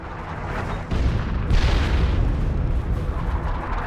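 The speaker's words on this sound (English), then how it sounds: "Artillery! Clear the area!" Artillery barrage explosions in Dawn of War II: deep, rumbling booms crash in close together, with a heavy blast near one second and another surge at one and a half seconds, forming a dense continuous roar with no talking.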